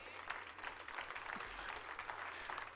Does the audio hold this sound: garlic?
no